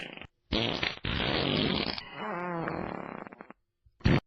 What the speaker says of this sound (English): They're fake fart sounds.